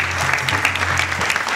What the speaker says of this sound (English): huge round of applause for yourselves